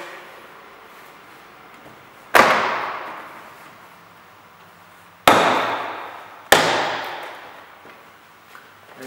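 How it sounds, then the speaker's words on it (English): Three sharp plastic snaps ring out as door panel clips are pulled free from a Suzuki Swift door, each a crisp crack followed by a short rattling decay, with quiet pauses between them. "You will have here some space to put your hand to pull the clips."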